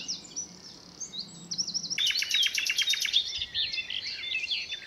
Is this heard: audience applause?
no